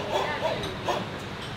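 Huskies at a husky cafe in Bangkok give short, soft yips and whimpering barks in a few quick bursts, set against a steady indoor background murmur.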